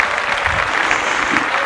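A crowd at a black powder shooting match with flintlock and percussion rifles claps and cheers in a brief burst of steady applause, close and fairly loud.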